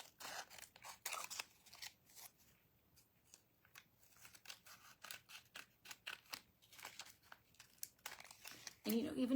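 Scissors trim paper with a series of close, crisp snips and light paper crinkling in an irregular rhythm, ending in a louder rustle.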